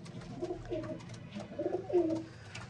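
Pigeons coo softly nearby, a few low throaty phrases in a short quiet stretch with no talk.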